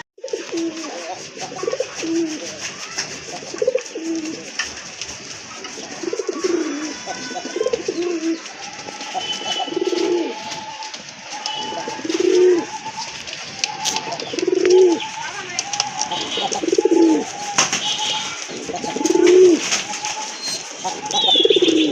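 Pigeons for sale, including a black-and-white pair, coo in repeated low rolling phrases at a steady rhythm, close and clear over a faint background hum.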